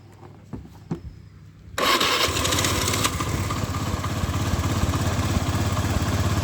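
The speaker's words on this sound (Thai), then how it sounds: "สามที่สี่สตาร์ติดนะครับ ติดง่าย ๆ เลย" An engine starts after cranking attempts: faint clicks and sputters, then it catches with a sudden loud roar that settles into a steady, close idle.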